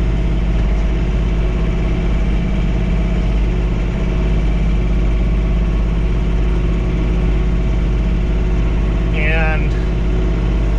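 John Deere 3046R compact tractor engine running steadily while snowblowing, a loud, close, constant drone with a brief higher whine near the end.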